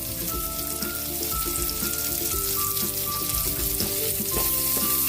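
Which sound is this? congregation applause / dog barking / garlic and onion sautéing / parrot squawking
garlic and onion sautéing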